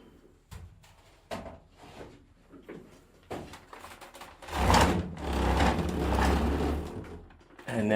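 A computer case side panel is pulled back and slid off after its screws are removed, giving a near scraping, rattling metal slide with a few sharp clicks, swelling into a louder sustained grind before easing off.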